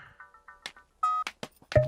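A telephone is dialed for an urgent call, a series of short separate keypad tones with uneven gaps between them, heard close and clear in a quiet room.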